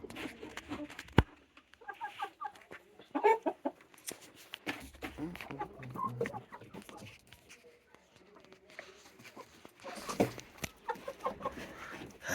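Village chickens cluck and call intermittently around a farmyard, faint to moderate, with people talking nearby and scattered handling noises.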